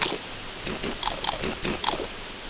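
Crunchy biting and chewing of food by a character in a zombie apocalypse video game, several quick bites in an uneven rhythm, close and fairly loud, with no talk.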